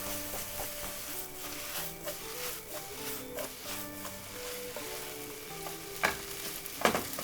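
Bacon, egg and spinach pasta sizzles steadily in a frying pan as it is tossed and stirred, with soft scrapes and a couple of sharper knocks over faint background music.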